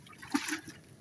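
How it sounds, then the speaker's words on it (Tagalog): Water is poured into a container aboard a squid-fishing boat at sea: a brief, faint trickle and splash lasting about a second. "Lagyan na ng tubig."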